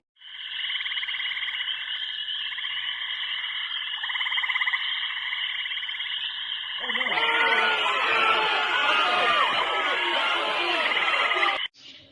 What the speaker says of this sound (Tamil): சமையல் பானை முதல் படுக்கை வரை எங்கும் தவளைகளின் சத்தம்.